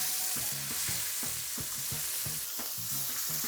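Beef sizzles loudly in a heavy-based frying pan, a constant crackling fry punctuated by rhythmic scraping knocks as the meat is turned and moved around the hot metal.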